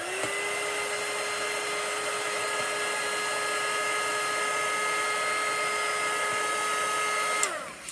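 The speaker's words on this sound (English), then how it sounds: "you can use a hair dryer" A hair dryer drying paint runs steadily at a constant whine for several seconds, then switches off and winds down at the end.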